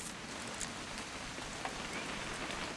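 Rain in the game What Remains of Edith Finch falls as a soft, continuous hiss of pattering drops, quiet and even throughout with no voices.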